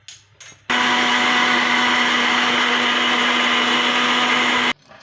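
An electric blender whips eggs, sugar and vanilla into cake batter, a loud, steady motor whine that kicks in suddenly, holds for about four seconds, then cuts off, with faint clatter before and after.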